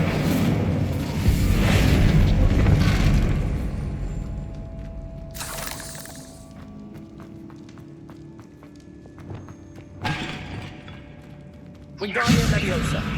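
Incendio fire spell cast in Hogwarts Legacy, a rushing whoosh and thudding burst of flame at the start, followed by quieter magical swells, thumps and a couple of bright crackling bursts later on.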